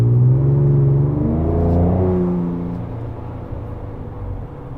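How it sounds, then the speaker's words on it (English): A 2024 Ford Ranger Raptor pickup's engine is heard from inside while driving, a loud rising rev and deep rumble that eases into a steady lower drone. "Really, really great sounding engine."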